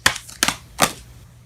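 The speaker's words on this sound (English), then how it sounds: "Okay, we're going to shuffle one more." Tarot cards are shuffled in three short, crisp riffling bursts spaced about half a second apart, close by and alone.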